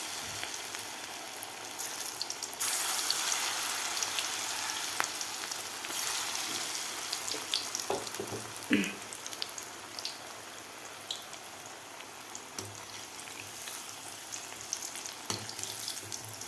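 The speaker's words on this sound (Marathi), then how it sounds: "मिडियम गॅसवर असे मस्त कुरकुरीत होईपर्यंत आपल्याला हे पकोडे तळायचे आहेत." Broccoli pakoras deep-fry in a kadai over a medium gas flame, a steady close sizzle with scattered pops and a few light utensil taps, no voices.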